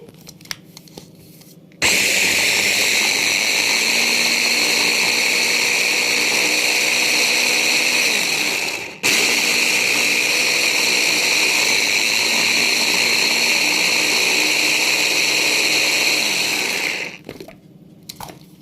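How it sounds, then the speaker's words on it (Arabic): An electric chopper with a very sharp blade whirs loudly while grinding garlic to a fine paste for freezing, running steadily in two long bursts separated by a brief pause, with no talking. "دي كبه والسكينه بتاعتها حاميه جدا فبتخليه ايه مهروس خالص"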